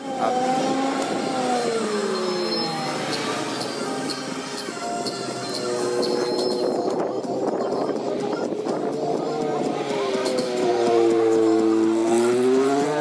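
An Audi TT S-Line driving-school car running on the Pau-Arnos circuit, its engine droning steadily and rising and falling in pitch as it accelerates and shifts, loud and close from inside the cabin, with no talking.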